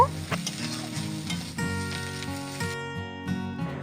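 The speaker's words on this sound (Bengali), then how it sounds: "এবার আবারও সমস্ত কিছু খুব ভালো করে নেড়ে নিয়ে মিডিয়াম আছে দুই থেকে তিন মিনিটের মতো জাল করে নেব" Fish roe jhuri, a crumbled fried fish-egg dish, sizzles steadily in a pan over medium heat while being stirred, with a continuous close, bright frying hiss and occasional scraping, no voices.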